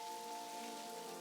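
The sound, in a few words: rain falling, from the video game Necrobarista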